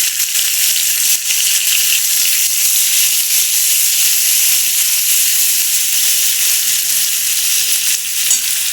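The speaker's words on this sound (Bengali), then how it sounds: "এরপর এতে আমি পেঁয়াজটা দিয়ে দিলাম।" Onion hits hot oil after the tempering spices, giving a loud, steady sizzling hiss close to the pan that runs unbroken for several seconds.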